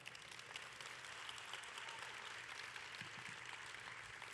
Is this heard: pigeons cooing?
no